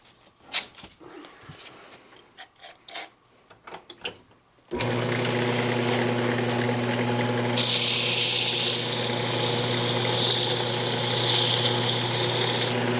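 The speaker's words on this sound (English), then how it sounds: "I'm just going to go ahead and sand it up inside and out" Scattered handling noises, then a steady loud whirring drone of a spinning lathe with sandpaper rubbing inside and out on a yew wood box, a hissing scratch growing brighter toward the end.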